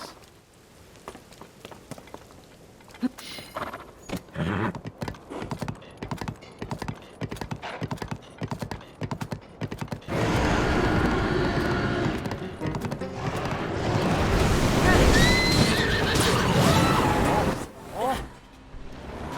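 Horse hooves clip-clopping in a rapid uneven rhythm, then a loud churning splash as the horse is pushed into water, with brief whinny-like tones near the end.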